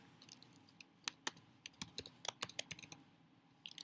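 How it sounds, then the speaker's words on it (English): Rapid, uneven clicking of fingers typing a web address on a computer keyboard, close and fairly quiet, with short pauses between bursts of keystrokes and no talking. "I can type a URL in there."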